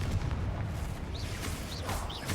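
Booming blasts of the Confringo fire spell in a Harry Potter video game, a dense, roaring wash of low rumble that runs through the whole moment, with brief whooshing spell sounds on top.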